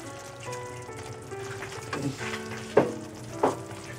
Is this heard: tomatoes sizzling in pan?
yes